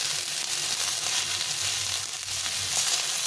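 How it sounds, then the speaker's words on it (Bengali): Sliced ridge gourd frying with salt and turmeric in a hot pan, a steady, close, even sizzle with no pauses and no voices. "হালকা একটু ভেজে নেব।"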